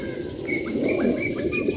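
Several pigeons coo steadily in a low, rolling murmur, with a few higher chirps from small birds mixed in nearby.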